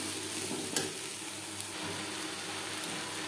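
Chopped potatoes sautéing with onion, garlic and spices in a pan for a fish-roe chochori, giving a steady close sizzle and low frying hiss under a few light spatula scrapes, with no voices.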